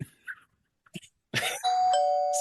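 A doorbell sound effect played live during a podcast recording: after a few faint clicks and quiet moments, a bright ding-dong chime sounds close and rings on steadily to the end.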